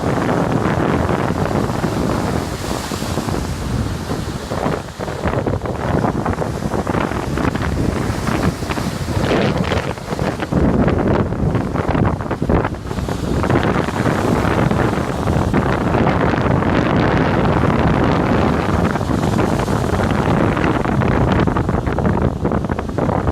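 A strong wind storm batters a Toronto pier, with heavy wind buffeting the microphone and large swells surging against the pier, loud and continuous without any voices.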